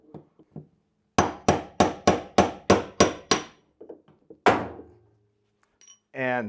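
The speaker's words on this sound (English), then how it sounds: "We're going to hammer the other direction now." A washing machine top bearing is driven out with a metal rod, heard as a steady series of about eight loud, evenly spaced hammer blows, then a heavier thud, with brief voice fragments and handling noise around them.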